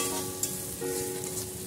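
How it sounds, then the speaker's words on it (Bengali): Ginger and garlic paste sizzling and frying in a pan while being stirred, a steady close crackle with light scraping of the spoon, no voices. "এগুলো ভালোভাবে নাড়াচাড়া করতে হবে।"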